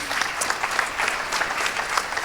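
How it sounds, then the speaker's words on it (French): Audience applause for a speaker at a conference on the metaverse, steady close clapping with distinct individual claps standing out, no talk over it. "Thierry Deschamps de Paillettes, cette fois, vous pouvez l'applaudir."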